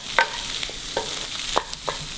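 Ham and egg fried rice being stirred in a pan with garlic oil, a soft frying sizzle punctuated by several distinct scrapes and clinks of the spatula, close and unaccompanied by speech.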